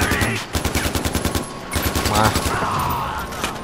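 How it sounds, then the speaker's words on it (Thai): Rapid automatic gunfire crackles in a video game, in bursts of quick shots that fade and then resume, with a voice talking faintly beneath the shooting. "ผมได้ยินเสียงปืน"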